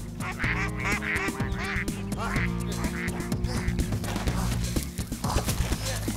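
Cartoon ducks quack repeatedly in a busy animated scene, the calls close and loud over a steady layered music and effects bed with no talking.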